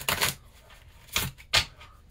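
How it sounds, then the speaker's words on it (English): Three short bursts of crisp, papery riffling, a deck of cards being shuffled close by with brief pauses between, no talking. "So I'm going to do one more shuffle"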